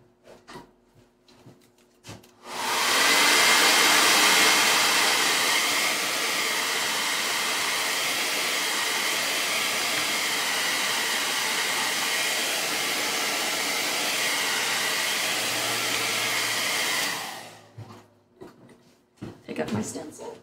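Hair dryer blowing hot air over freshly base-coated paint on a DIY phone stand, a loud steady roar that starts abruptly, holds for about fifteen seconds and cuts off, with brief handling rustle before and after.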